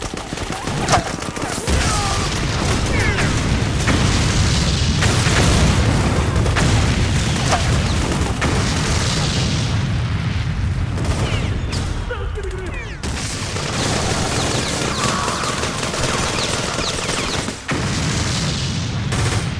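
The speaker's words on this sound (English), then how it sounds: "from this position, I can throw a grenade behind me" Grenade blasts and gunfire in Metal Gear Solid 4 clash with PMC soldiers: dense, loud, continuous battle noise with booms and volleys, with a voice talking over it throughout.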